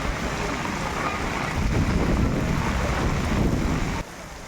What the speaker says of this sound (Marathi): नागपूर शहरात काही भागामध्ये वादळी वाऱ्यासह पावसाला सुरुवात झाली आहे